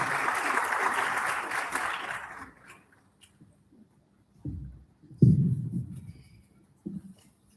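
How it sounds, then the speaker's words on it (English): Audience applause at a university waste innovation challenge launch event, loud and steady for about two seconds, then fading out into quiet with a few faint thumps and short bursts of room noise. "Let's give a round of applause, please."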